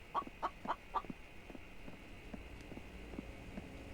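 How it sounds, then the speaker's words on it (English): Several rapid clucks from chickens in the video game The Infected, a short burst of four or five close calls at the start, then quieter scattered bird sounds over a steady background hum. "what's going on with all these birds?"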